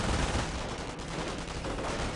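Continuous machine gun fire in a World War II strategy game, a dense, fast stream of shots heard alone at moderate distance, with no pauses or voices across the short stretch.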